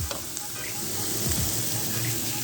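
Aromatics sautéing and being stirred in a pot while cooking Jamaican steamed fish; a soft, fairly quiet sizzle with faint stirring scrapes.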